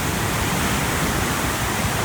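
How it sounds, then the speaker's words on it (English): Murchison Falls on the Nile in Uganda roars in a dense, steady wash of falling water and drenching spray, close and loud with no voices. "you're just getting drenched in the mist from the falls"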